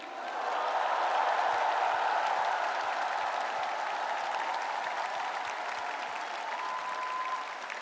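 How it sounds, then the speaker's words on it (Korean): Audience applause at a Democratic Party presidential nomination acceptance event in Korea, honoring two party candidates: dense, steady clapping from a large crowd that swells quickly and holds for several seconds with a faint crowd murmur. "우리 두 분 후보님께 뜨거운 격려의 박수를 부탁드립니다."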